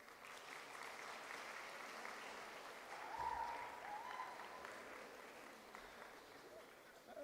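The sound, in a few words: audience clapping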